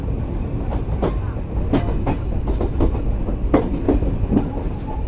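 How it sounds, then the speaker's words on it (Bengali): The Kopotaksha Express, on its Khulna to Rajshahi run, rolls into Poradah Junction station with a steady rumble and a series of sharp rhythmic wheel clacks over the rail joints, heard close and with no talking. "আমাদের ট্রেন প্রবেশ করছে পোড়াদহ জংশন রেলওয়ে স্টেশনে"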